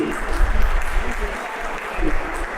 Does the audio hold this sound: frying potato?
no